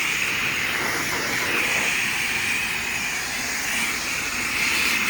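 Pressure washer wand rinsing a car in a self-service car wash bay, a loud continuous hissing spray that holds steady for several seconds, nearby and without talk.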